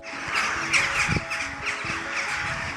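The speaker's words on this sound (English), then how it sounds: "Squawking loudly, they seemed to be flying frenziedly" Several crows caw and squawk repeatedly over a steady background hum, harsh calls overlapping close by.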